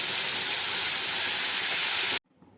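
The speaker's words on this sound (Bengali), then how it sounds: "এখানে আমি দুশো গ্রাম জল দিয়ে দিচ্ছি" Two hundred grams of water poured into a pan of frying chicken, a loud harsh burst of steam hiss that holds steadily, then cuts off abruptly into near silence.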